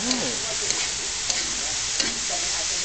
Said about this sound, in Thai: ต้องเคี่ยวคนไปเรื่อยๆแล้วก็เพื่อเตรียมพร้อมในการที่จะใส่สต๊อกน้ำสต๊อกหมูไป